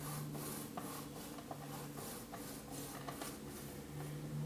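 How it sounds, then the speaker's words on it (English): A knife trimming the domed top off a baked vanilla cake, soft rhythmic rubbing and rasping strokes, faint and close with no talking. "Just give the top a little trim. Not so much so you don't eat into your cake."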